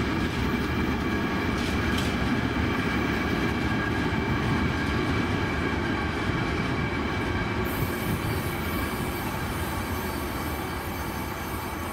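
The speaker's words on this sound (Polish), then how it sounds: "Jeszcze dobrze nie odjechał M62, a już na tor obok wjeżdża słowacki łamaniec ze składem węglarek." Freight trains roll through a Polish station: an M62 diesel and a Slovak locomotive hauling coal wagons, with steady rumbling wheels and rail noise at close range, no voices.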